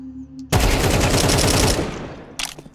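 Automatic weapon fire in the Counter-Strike 2 video game, played on a warm-up workshop map: one loud rapid burst lasting over a second, followed by a brief short shot or reload clatter.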